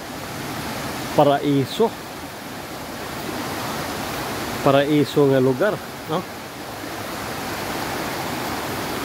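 Steady broadband rush of water, like a stream or waterfall close by, continuous throughout while someone speaks briefly twice over it.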